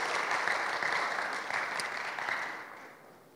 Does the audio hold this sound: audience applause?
yes